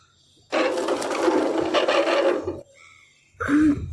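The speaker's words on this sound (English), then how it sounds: "A screw! I might be able to pry it loose with my hands." A screw being pried loose by hand in the game Frequency Missing: a loud two-second scraping grind, a faint pause, then a short second rasp.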